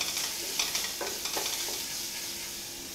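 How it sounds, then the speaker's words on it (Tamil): Turmeric and asafoetida powder sautéing in a pan for horsegram rasam, a steady close sizzle with several light stirring scrapes near the start, no voices. "ரெண்டும் போட்டு வதக்கிடுங்க"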